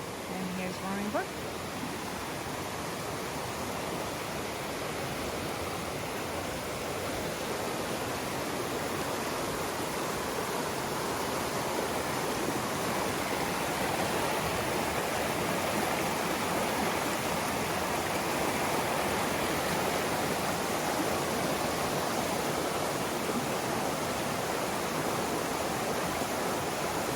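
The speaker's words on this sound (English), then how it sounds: "And here's Roaring Brook." Roaring Brook rushes in a steady, broadband roar of flowing stream water that never lets up, full and close throughout with no breaks.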